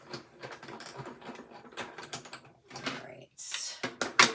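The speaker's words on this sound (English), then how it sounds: "run this through the cut and emboss machine" A die-cut and emboss machine pulls cardstock through its rollers in a crafting session, a run of close mechanical clicking and grinding with short ratcheting bursts and a louder crank noise near the end.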